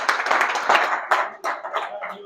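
Audience at a 1 Million Cups startup pitch event applauds, a loud dense burst of clapping from many hands that thins out toward the end.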